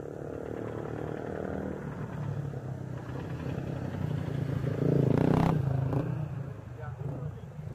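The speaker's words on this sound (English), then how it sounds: "So many motorbikes here." Motorbike engines pass nearby in a busy outdoor market in Kajiado, Kenya, one revving louder as it goes by, with people talking in the background.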